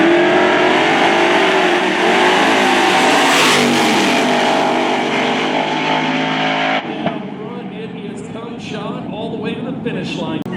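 A Chevy wagon and a C6 Corvette with an LS3 launch side by side at a Lake Cumberland Dragway drag race. A loud, sustained engine roar continues throughout and eases after about seven seconds, with an announcer talking over it.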